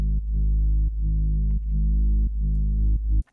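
Soloed low band of a song's bass bus, a deep droning bass line of five sustained notes separated by brief dips, loud and steady before stopping suddenly.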